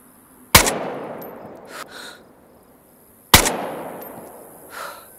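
Two loud, sharp gunshots about three seconds apart in the post-apocalyptic survival game DayZ, set in Chernarus, each with a long echoing tail fading over a quiet background.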